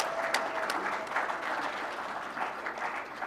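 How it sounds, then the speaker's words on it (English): An audience at a prize giving ceremony claps steadily in sustained applause, a dense, even wash of many hands at moderate distance with no voices over it. "Another round of applause to them."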